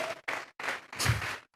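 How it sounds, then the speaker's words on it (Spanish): A church congregation bursts into rhythmic applause, several short sharp bursts of clapping separated by brief gaps, close and fairly loud, ending abruptly. "Vamos a regalarle ofrenda de palmas al Dios de la gloria."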